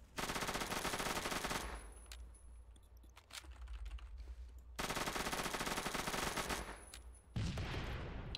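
Bursts of automatic gunfire from a video game with grenades, rapid rattling volleys in two long stretches separated by quieter gaps, loud and continuous through most of the clip.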